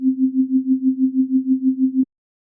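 A synthesizer sine tone is pulsed in volume by an LFO set to restart on each note, swelling about thirteen times in steady rhythm for two seconds before cutting off cleanly.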